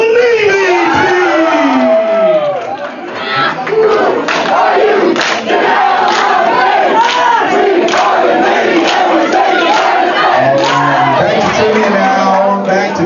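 A loud indoor crowd at an Army versus Navy church fun night cheering contest yells and whoops continuously, many voices shouting and shrieking together at full volume.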